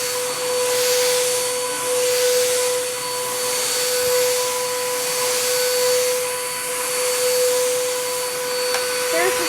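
An older collectible vacuum cleaner with cyclonic suction and a brush roll runs with a loud, close, continuous whine, its level swelling gently up and down.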